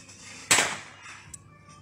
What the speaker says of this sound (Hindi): तस्वीर में आप देखिए किस तरह से यहां पर हर्ष फायरिंग की जा रही है